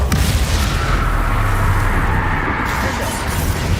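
Casting the Glacius freezing spell in the PC game Hogwarts Legacy sets off a loud, dense burst of rumbling, crackling noise that fills the whole moment without a break.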